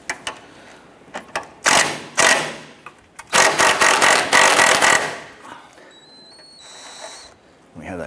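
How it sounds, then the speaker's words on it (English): An impact wrench spins a nut on the front lower control arm of a 2008-2012 Honda Accord. It gives several short buzzing rattles, then one longer hammering run, close up, with quiet gaps between them. "I'm going to use my impact here to try and spin this nut"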